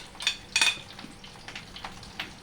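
Egg batter frying in hot oil in a pan for an egg roll, soft crackling sizzle with a few brighter spattering bursts near the start, then quieter intermittent sizzling.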